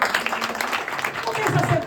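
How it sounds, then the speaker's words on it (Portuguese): A church congregation claps and applauds for a brief moment, with dense clapping mixed with voices and cheering, moderately loud and close. "Uma forte salva de palmas para Jesus."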